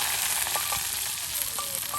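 Onion and garlic frying in a cooking pot, a loud steady sizzle with light clinks and stirring scrapes, close up and without speech.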